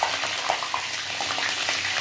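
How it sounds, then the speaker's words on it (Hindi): Steady crackling sizzle of green chillies frying in hot oil with garlic and fenugreek for kadhi tempering, with soft popping spatters throughout and no voices. "मैं ये हरी मिर्च का तड़का लगा रही हूँ"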